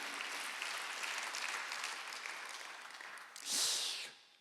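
A church congregation claps steadily in a reverberant hall during a Thanksgiving Sunday service, applause swelling briefly near the end before fading out.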